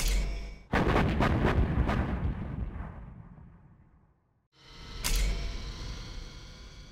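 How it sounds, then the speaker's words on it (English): A Chinese nuclear missile launching in Command and Conquer Generals Zero Hour, a deep booming blast that roars and slowly fades into near silence before a second heavy rumbling burst swells up, loud and close with no talk. "We have launched our nuclear missile."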